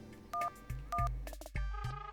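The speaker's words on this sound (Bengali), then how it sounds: "রিং হচ্ছে, রিং রিং।" A telephone call is placed, giving a few short electronic phone tones in quick succession, faint and spaced over a low musical background.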